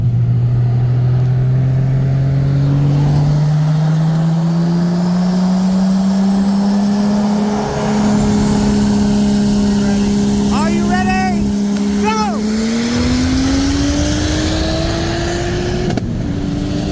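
A 1995 Toyota Supra with a single turbo on E85 and a 2020 BMW M8 Competition with bolt-ons launch in a street race, heard from inside a car as a steady engine drone climbs in pitch, with a brief whine and voices around it.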